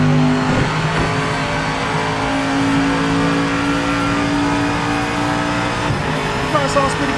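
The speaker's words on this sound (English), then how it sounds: "Car sounds pretty good." A race car engine in the Project Motor Racing video game revs steadily and loudly with sustained tonal drone, while someone talks over it.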